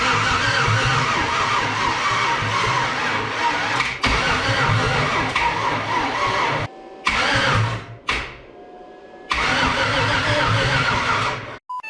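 The LS-swapped Mustang, with a weak battery helped by a jump pack, loudly cranks and runs rough and close. The engine drones steadily, then cuts out and restarts several times.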